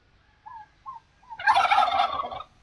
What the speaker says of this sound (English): Under there we have got turkeys.